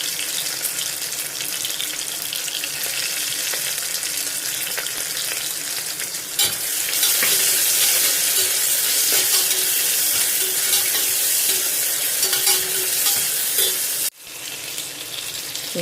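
Onion and ginger-garlic paste with salt are sautéed for vegetable rice in a pan, producing a loud, steady hiss and sizzle up close that swells midway and is briefly interrupted near the end.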